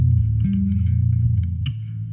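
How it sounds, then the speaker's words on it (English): An electric guitar played through a B7K distortion pedal sustains a thick, fuzzy chord that shifts pitch partway, close and steady for about two seconds with no voices. "B7K. It's the best distortion pedal that lives."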